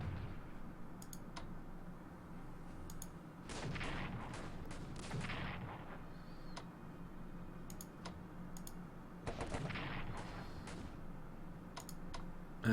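Railgun artillery in Strategic Command: World War I fires in a few muffled, low thuds amid quiet clicking and faint background noise, the bursts soft and distant rather than sharp.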